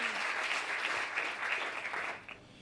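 Audience applause for a keyboard musician at a German cabaret show, a dense steady clatter of many hands that tapers off near the end.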